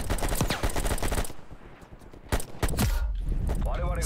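AK rifle gunfire in the video game Call of Duty: Black Ops Cold War, loud rapid automatic bursts in two separate stretches with a brief lull between, close and punchy.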